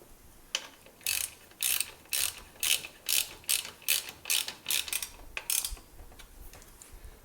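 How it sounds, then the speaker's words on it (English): A ratchet with a 12mm socket turns a Subaru alternator belt adjuster, giving a quick run of about a dozen sharp, evenly spaced clicking bursts close up with no talking. "Next, we'll grab a ratchet or 12mm socket."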